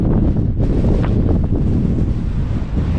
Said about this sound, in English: And just got really windy